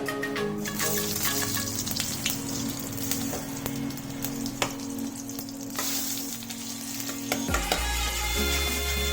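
Olive oil and butter sizzle steadily in a pan while being stirred for mushroom gravy, a continuous close crackle; near the end a heavier, lower stir sound cuts in.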